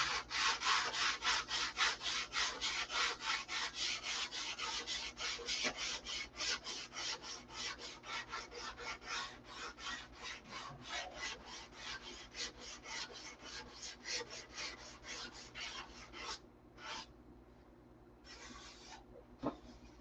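Steady rhythmic strokes of hand sanding with a soft sanding block, a close rasping back-and-forth repeated many times before slowing to a few final passes.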